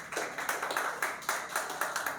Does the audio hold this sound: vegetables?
no